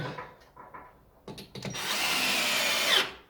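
A cordless drill driver fitted with a 6 mm metal bit drives into an aerated concrete Ytong block while mounting a UD profile. A few short close bursts give way to a steady whirring grind lasting over a second, then it cuts off.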